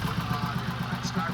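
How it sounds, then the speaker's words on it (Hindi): Tractor engine running just after being started with the choke: a steady, close rhythmic chugging idle with even low pulses throughout. "स्टार्ट हो गया, ये देखो भाई ऐसे करके ये स्टार्ट होता है।"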